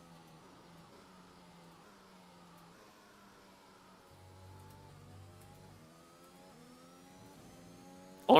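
A Formula 1 race car in F1 2021 drives a lap in the game with its DRS flap stuck open, producing a steady mid-pitched engine drone that rises and falls with the revs and holds close throughout.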